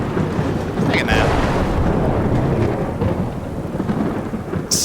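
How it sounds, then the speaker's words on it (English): Thunderstorm in modded Skyrim: a continuous roar of heavy rain with rolling thunder rumbling underneath, loud and steady for several seconds. "Hopefully by then the thunderstorm will have passed."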